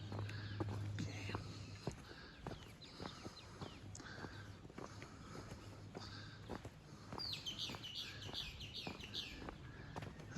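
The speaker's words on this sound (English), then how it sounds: "All I hear is the little birds chirping." Small birds chirp in the morning in the La Floresta neighborhood, with scattered faint tweets and a brighter burst of calls near the end, over soft footsteps and quiet voices.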